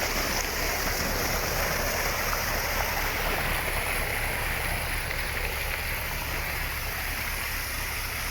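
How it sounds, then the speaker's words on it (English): Steady, continuous rush of water running down the sluices at a newly built gold mine, a dense broadband wash with no pauses or voices, close and evenly loud throughout. "Water running down the sluices."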